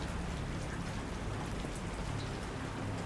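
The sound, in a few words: rain falling, sound effect in a creepypasta reading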